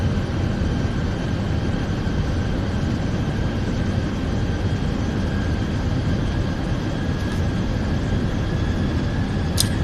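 Airbus airliner landing at Belfast City in Microsoft Flight Simulator 2020, a steady loud roar of engines and rushing air with a persistent tonal whine, a faint thump near the end.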